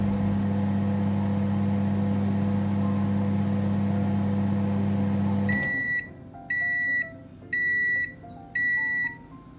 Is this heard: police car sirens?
no